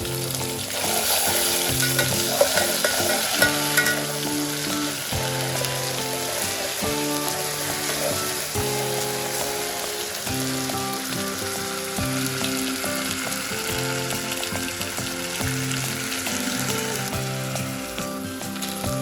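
Ginger garlic paste frying and being stirred in a pot for mutton kheema biryani, a dense continuous sizzle with faint clinks of a spoon, steady and close, no voices.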